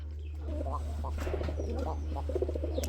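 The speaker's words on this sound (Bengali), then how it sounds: "খালি আগে ডাকগুলো খেয়াল করেন বন্ধুরা, ডাকেরই কবুতর এগুলো" Pigeons coo in a steady series of soft, low calls from pet breeding pairs kept for sale, close by over a constant low hum, with light chirps and faint background voices.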